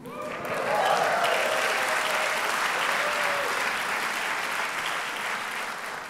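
A large audience at an Oxford MBA end-of-course ceremony breaks into sustained applause and cheering, a loud even roar of clapping that swells quickly and holds steady.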